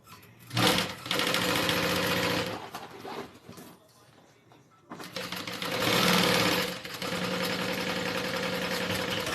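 A sewing machine stitches wallet pieces together in bursts, a close, loud mechanical whirring hum that starts, pauses with quiet handling noise, then runs again steadily.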